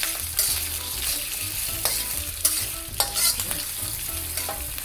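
Prawns hit a pan of hot oil with sautéed garlic and ginger and sizzle steadily over medium-high heat, with scraping stirs and clinks of a utensil close by; no voices.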